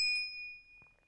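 A bright notification bell ding sounds once at the start, ringing out and fading over about half a second, followed by faint low noise.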